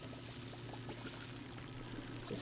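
Water poured steadily onto a houseplant, a continuous close splashing trickle under a low steady hum, with no voices.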